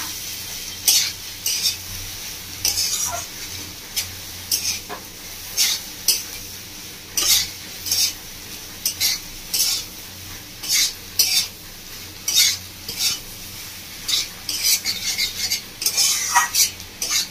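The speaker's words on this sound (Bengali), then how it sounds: "আমি 5 মিনিট মতো কষিয়ে নেবো, এভাবে নাড়তে থাকবো।" Spices sautéing in a pan for a village-style ridge gourd and prawn curry, stirred with a metal spatula in repeated scraping strokes over a low constant sizzle, no talk.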